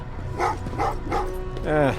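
Dogs barking in the Terminator Resistance video game, several short yelps in a steady rhythm followed by a longer drawn-out bark, close and fairly loud over a low background hum.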